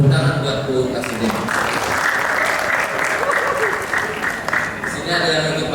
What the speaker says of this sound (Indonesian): Ya, tepuk tangan buat Bu Kasudin.